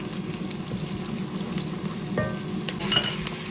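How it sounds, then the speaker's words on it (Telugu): Onions and chillies frying in hot oil for bagara rice, a steady sizzle with faint stirring scrapes, close and fairly loud, no talking. "and for the bagara rice onions and chillies వేస్తున్నాం"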